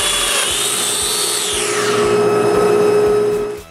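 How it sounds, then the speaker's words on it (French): A power drill bores into the end of a wooden stile held in a shop-made domino jig, a steady loud whine with a pitch that slides downward midway, running continuously for several seconds before cutting off. "puis percer l'autre bout du montant"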